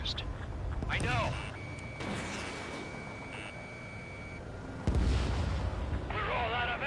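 Enemy gunfire in the Ace Combat 7 jet combat game, heard as rumbling, booming bursts beneath radio-style voices that talk over much of the stretch, with a louder burst near the end.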